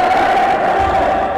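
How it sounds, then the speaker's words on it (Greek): Cheering and clapping from the bench at a basketball game between Ionikos N.F. and Aeropos, a steady, loud crowd roar filling the moment without pause. "τα χειροκροτήματα από τον Πάγκο"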